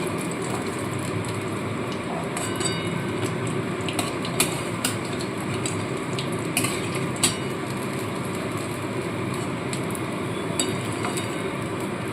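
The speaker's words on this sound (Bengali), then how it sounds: "এগুলোকে এরকম লালচে লালচে করে ভেজে আমি তুলে নেব" Amudi fish deep frying in hot oil until reddish, a dense, steady bubbling sizzle that runs throughout with occasional sharper crackles and pops, close and fairly loud.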